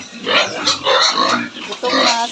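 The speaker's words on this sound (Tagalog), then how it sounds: "Bago natin linisin ang ating mga alagang baboy." Domestic pigs on a farm grunt and oink in repeated bursts close by, several animals squealing and snorting together before being washed.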